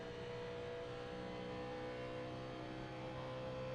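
A NASCAR Legends race car at Pocono in the iRacing simulator, engine held at full throttle as a steady, fairly quiet drone with no change in pitch.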